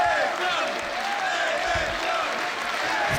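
A capacity crowd at the Logan Square Auditorium claps and cheers steadily through a wrestling match, a dense sustained roar of applause with a commentator talking over it.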